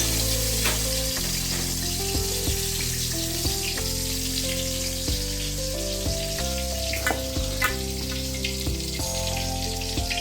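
Dry red chilies and bay leaves sizzle in hot oil in a kadai, a steady close frying hiss with light stirring clatter throughout.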